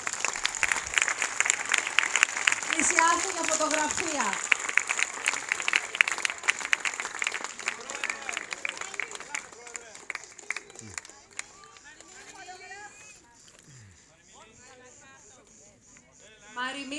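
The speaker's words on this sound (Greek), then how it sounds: "Ένα τελευταίο χειροκρότημα για την ομάδα του Πάτρα" A theatre audience applauds the Patras troupe after a performance of Aristophanes' Birds at the Zografou theatre festival. The clapping is sustained and loud for about ten seconds, mixed with cheering voices and speech, then thins to scattered claps under talking.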